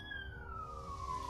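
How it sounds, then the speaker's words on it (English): A siren wailing on a main street in the background, a single faint descending tone over a low rumble. "And so if you can hear the alarm, the sirens in the background."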